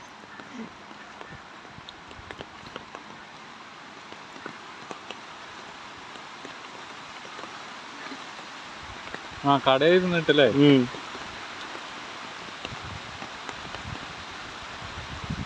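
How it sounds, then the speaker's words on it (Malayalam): Steady rain hisses over a stream during river fishing, a constant, moderately quiet wash throughout, with a brief burst of people talking partway through. "അതാ വരുന്ന നല്ല മഴ"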